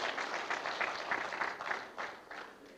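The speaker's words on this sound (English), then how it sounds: "So a big round of applause for our IT department." Audience applause for an IT department at a forum, a steady wash of many hands clapping through the whole stretch, with rhythmic swells and no voices on top.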